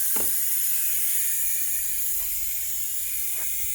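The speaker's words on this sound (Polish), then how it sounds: "I sama zrzuca powietrze." Air hisses steadily from an Ingersoll Rand 741 compressor with an Isuzu engine as it vents after being shut down, a continuous close-up rush with a few faint knocks beneath it.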